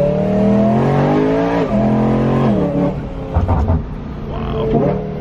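BMW E92 M3 with stock exhaust, its engine revving loudly and up close, rising and falling through several sweeping pulls with a strong harmonic engine tone, heard on its own.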